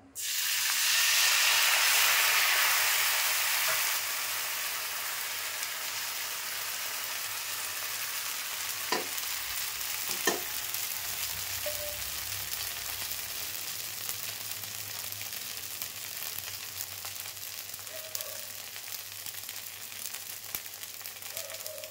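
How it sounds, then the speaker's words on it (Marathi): Rice batter for Malvani ghavane hisses and sizzles steadily on a hot pan, loudest at first as it is poured and then settling into a continuous frying sizzle with a few faint clinks. "असं प्रत्येक वेळेला ढवळूनच असा घावणा घालायचा."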